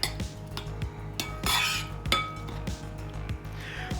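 Antipasto pasta salad with olives, provolone, salami, diced red onion, tomatoes and red bell pepper being tossed in a bowl; a utensil clinks and scrapes against the bowl in quick, irregular strikes, close and fairly clear.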